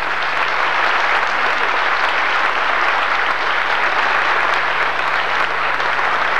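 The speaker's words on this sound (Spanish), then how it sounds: "Fuerte aplauso." Loud, sustained applause from a crowd at the medal ceremony of a youth world championship opening, a dense unbroken roar of clapping holding steady throughout.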